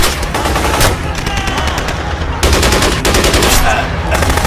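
Loud bursts of automatic gunfire in the 2024 Hindi film Article 370, rapid machine-gun volleys rattling in several strings with short gaps between them.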